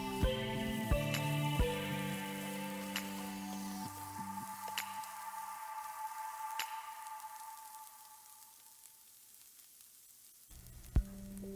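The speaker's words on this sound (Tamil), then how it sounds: "இப்போ முட்டைக்கோஸ் சேர்த்துக்கலாம். இது கொஞ்ச நேரம் வதக்கிக்கலாம்." Shredded cabbage sautés in a pan for restaurant-style chicken fried rice, a soft, steady sizzle punctuated by a few sharp utensil clinks against the pan, fading quieter before another clatter near the end.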